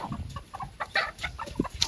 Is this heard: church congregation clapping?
no